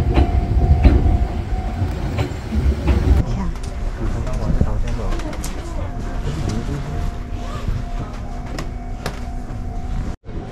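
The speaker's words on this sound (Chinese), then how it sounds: "用 JR 东京广域周游卷可以免费搭乘富士急列车。" Fujikyu train rolling toward Kawaguchiko station, with a steady interior rumble and rattle, occasional clicks and knocks, and some people talking faintly in the carriage.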